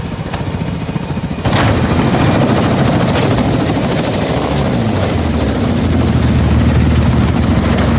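Helicopter in the Call of Duty Modern Warfare 2 video game, a loud, steady rotor thrum that swells abruptly after a brief quieter moment and then holds, close and continuous with no talk.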